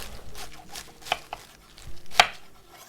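Cabbage being cut into 1.5 to 2 cm pieces on a board for cucumber and cabbage water kimchi, a few soft knife strokes with two sharper thunks, close and sparse.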